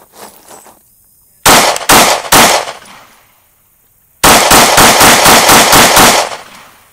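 Kimber R7 Mako pistol fired at an outdoor range: three loud sharp shots in a row, a pause, then a rapid string of about eight closely spaced loud shots, each cracking close up with brief ringing decay.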